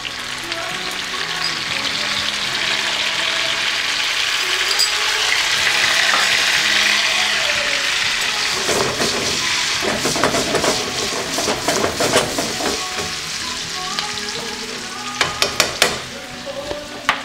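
Saffron-seasoned French fries sizzle steadily in a hot pan, a loud, continuous frying hiss broken by clacks and scrapes from stirring near the end.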